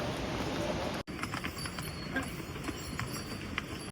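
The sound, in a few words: horse hooves clip-clopping on mountain trail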